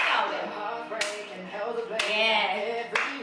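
Three crisp hand claps land about a second apart during a hula hoop workout, loud and close over a tonal musical backing.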